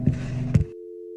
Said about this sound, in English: the phone would disconnect for a final time